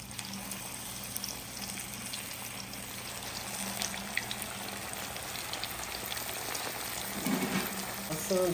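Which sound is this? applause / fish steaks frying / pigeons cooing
fish steaks frying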